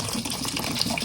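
Water pours steadily into a cooking pot for basmati rice, a brief, close, continuous gushing splash.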